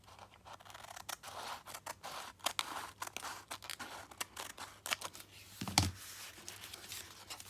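Scissors snip away excess tea bag paper in an art journal, a quick close run of crisp paper cuts in steady rhythm, alone and without talk.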